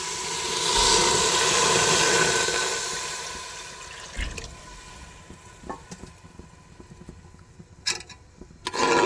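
Water poured into a hot pan of fried payesh rice, a loud rushing hiss and bubbling that fades after a few seconds into quieter sputters and scattered clinks of a spoon.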